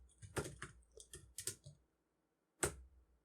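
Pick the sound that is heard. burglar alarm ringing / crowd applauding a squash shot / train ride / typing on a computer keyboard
typing on a computer keyboard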